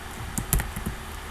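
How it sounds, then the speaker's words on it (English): Someone types option values on a computer keyboard, a brief run of light, uneven keystrokes up close against a steady background hiss. "you just type in what those sizes are"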